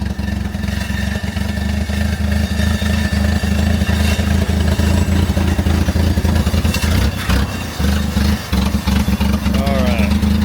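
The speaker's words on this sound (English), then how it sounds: "It's a little loud, no muffler," A rusty old rail speeder's engine runs with no muffler, a loud, close, raw chugging with steady rhythmic pulses and a brief dip partway through, while people talk over it.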